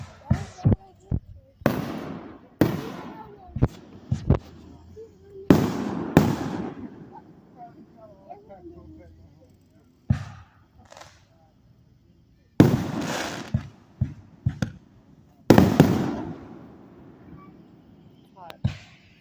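Fireworks burst outdoors on a hot July 3rd evening in a series of loud sharp bangs, some in quick clusters and others spaced apart by pauses, while people talk between the explosions.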